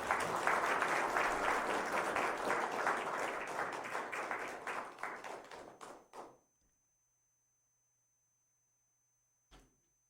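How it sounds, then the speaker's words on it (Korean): Applause rises in a council chamber during an award ceremony, a steady round of clapping that trails off and stops about six seconds in, followed by silence and then one brief knock. "큰 박수 부탁드립니다."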